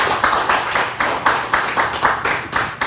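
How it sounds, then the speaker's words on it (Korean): An audience at a Korean speaking event claps steadily in a dense, rhythmic burst of applause for a speaker, close and continuous throughout. "다시 한번 큰 박수 부탁드립니다"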